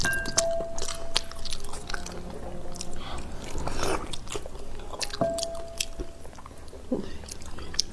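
Someone chews a braised pig trotter up close, with wet, sticky biting and squishing over several seconds and a light clink or two in the background.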